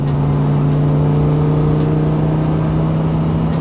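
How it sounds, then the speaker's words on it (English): A 2009 Lamborghini Gallardo LP560-4 twin-turbo rear-engined sports car rumbles loudly and steadily close by, its exhaust droning with a deep, sustained note. "I don't know if the mics are picking up the exhaust note"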